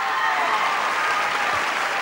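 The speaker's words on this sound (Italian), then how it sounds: "Facciamo un applauso a Mario Marozzi!" Studio audience at Teatro delle Vittorie applauds a dancer, a dense, loud, steady roar of many hands clapping with light crowd murmur underneath, sustained evenly throughout.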